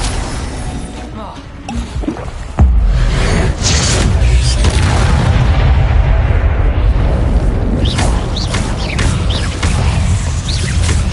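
A fire-blast spell explosion in Hogwarts Legacy, a video game: a heavy boom lands a few seconds in and opens into a loud, sustained roaring rumble with crackles and whooshes layered on top.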